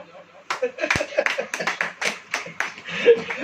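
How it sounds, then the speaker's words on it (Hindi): A church congregation claps hands in a lively, uneven burst of rapid applause, close and fairly loud, with a few voices mixed in. "ताली बजाओ।"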